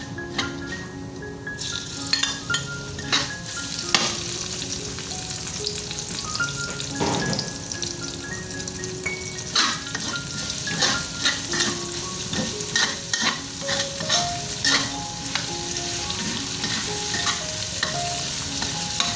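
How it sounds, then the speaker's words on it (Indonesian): Garlic and ginger stir-fry in hot chili oil, a continuous close sizzle punctuated by irregular scraping and stirring strokes from a utensil against the pan, with no voices. "ini setelah kita tumis, kita masukkan bawang putih dan jahe"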